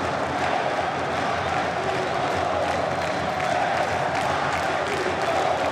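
Football crowd applauding and cheering the Náutico team after a 1-1 match, a dense continuous wash of clapping and crowd noise at a steady level.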